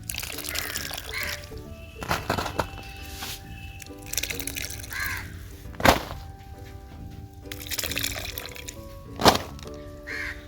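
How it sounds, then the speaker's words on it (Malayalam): Soaked cocopeat is wrung out by hand onto a sack, with water pouring and dripping in several short bursts over a steady low background hum. "വെള്ളത്തിൽ നിന്ന് എടുത്തിട്ടേ ഒന്ന് പിഴിഞ്ഞിട്ട് നമുക്കൊന്ന് ചെറുതായിട്ട് നമുക്ക് വെയിലത്തിട്ടൊന്ന് ഡ്രൈ ആയിട്ടെടുക്കാം"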